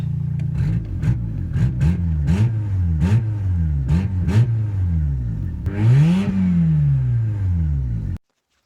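A warmed-up rotary engine car idles roughly and is blipped through a quick series of sharp revs, then one longer, louder rev, before cutting off abruptly.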